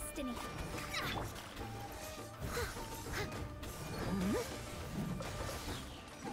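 Shatter damage effects in Genshin Impact: crashing, cracking impacts and swishy whooshes burst at intervals amid busy combat sounds, with faint voices underneath.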